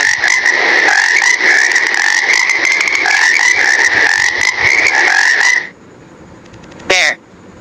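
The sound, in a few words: frog croaking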